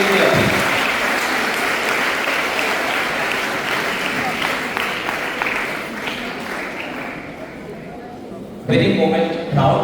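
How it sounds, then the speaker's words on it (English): Audience applauding at an inter-school maths quiz competition, steady dense clapping filling most of the stretch, thinning toward the end before a short burst of talk or cheering. "Please give a huge round of applause for this one"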